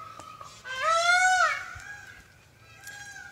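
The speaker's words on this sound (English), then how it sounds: "That sound was those wonderful animals. Those peacocks right there." Peacocks calling outdoors, one loud rising wail up close followed by fainter, shorter cries in the background.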